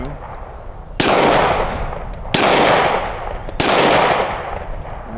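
Three sharp, loud gunshots from a Smith and Wesson M&P Compact pistol at an outdoor range, spaced about a second apart, each with a long decaying echo tail.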